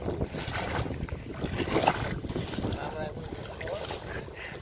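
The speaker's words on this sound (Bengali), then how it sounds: "নদীর পাশে পশ্চিমের বাতাসের কারণে নদীর কিন্তু ঢেউটা অনেক বেশি" Wind gusts buffet the microphone beside the Padma river at Tangon, Rajshahi, with rough water and waves from a west wind churning underneath near a fishing boat.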